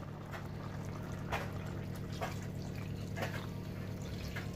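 Lamb stock pours into a simmering pan, a soft continuous liquid trickle with a few brief splashy bursts over a low steady background hum.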